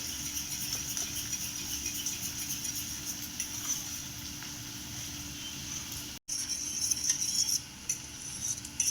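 Flour and cornflour batter for crispy cabbage Manchurian being stirred in a bowl, a steady close scraping and clinking of utensil against the dish, a brief gap near the end, then more mixing.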